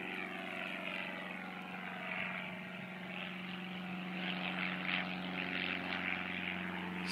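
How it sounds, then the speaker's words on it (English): Propeller airplane taking off from an airport near a landfill, a continuous droning engine hum with a steady tone that swells slightly as it climbs, heard at a distance and alone. "And a plane's taking off from the airport right now."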